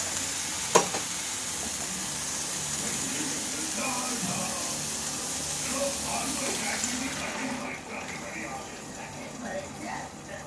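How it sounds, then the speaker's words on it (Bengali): Boiled dal (lentils) tipped into a hot pan, a steady broad sizzle and hiss with a brief clatter early on, the frying settling slightly quieter toward the end. "এবার এটাকে নাড়িয়ে আমি ডালটা দিয়ে দেবো"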